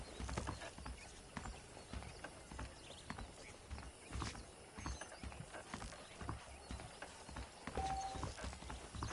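Steady clip-clop of a horse's hooves in the Red Dead Redemption game, with creaking tack and mechanical rattles, the rhythm moderately close and continuous.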